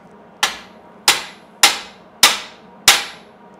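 Five sharp, ringing hammer blows on metal, evenly spaced about half a second apart during a welding job, each with a quick bright decay, loud and close with no talk.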